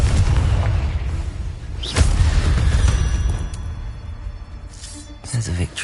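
A Confringo spell in Hogwarts Legacy on PS5 goes off as a couple of deep booming blasts with whooshing bursts, set against ongoing game sounds while a voice calls out.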